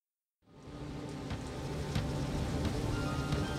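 Rain falls in the video game Dying Light, starting abruptly from silence and settling into a steady, dense hiss with occasional sharper drops, with no talk.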